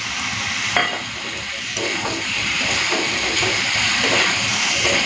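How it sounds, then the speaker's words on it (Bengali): Spiced mutton frying in a pan with chopped tomato, bound for a pressure cooker: a loud, steady hiss of sizzling across the whole stretch, broken by occasional scraping stirs, with no talking. "মাংসটাকে মশলা টশলা দিয়ে ভালো করে কষে নিয়েছি"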